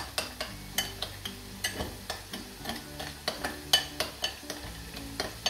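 Brown sugar stirred into vegan tomato ketchup in a pan, a quick rhythmic series of spoon scrapes and taps over a low simmering sizzle, close and clear, with no speech.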